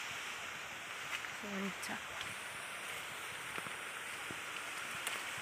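Heavy rain pours down amid strong wind, a dense steady hiss of falling water close by with scattered louder drops, and a brief voice cutting in faintly.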